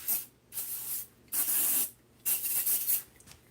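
Four bursts of glass cleaner from a trigger spray bottle over a workbench, each a short airy hiss, evenly spaced and close, with quiet gaps between and no talk.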